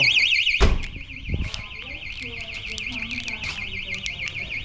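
An aftermarket car immobilizer alarm sounds a loud, continuous warbling siren that keeps going throughout, while a car door thuds shut early on and faint talk sits underneath.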